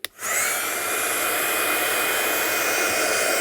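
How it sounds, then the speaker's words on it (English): A heat gun blows steadily to dry stamped papercraft work, a loud continuous airy roar with a faint whine that starts abruptly and holds without pause. "we'll just dry this one off with the gun"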